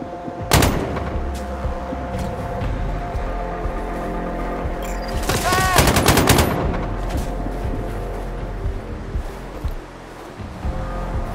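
Gunfire in the video game Sniper Ghost Warrior Contracts, set in the Altai Mountains, with sharp loud shots and bursts of automatic fire over a constant rumbling background, including a dense volley near the middle.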